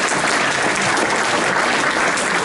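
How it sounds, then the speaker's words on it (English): A meeting audience at a club's inaugural gathering bursts into loud, dense clapping, continuous and close throughout without any talk. "So then you're supposed to clap."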